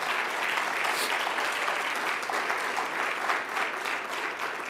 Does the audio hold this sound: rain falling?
no